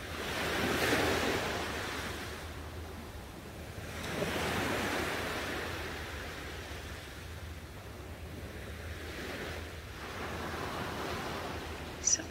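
Ocean waves wash onto a beach in broad, rolling surges that rise and fade every few seconds, with a steady hiss of surf and some wind between them, close and continuous with no voices.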